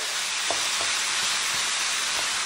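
Home-preserved corn sizzles and fries steadily in a pan, a constant close hiss with a few soft stirring knocks scattered through it.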